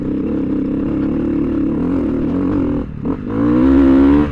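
A big-bore Honda CRF300L dual-sport motorcycle engine heard up close while riding, a loud steady drone that dips briefly at a shift, then revs harder and rises in pitch.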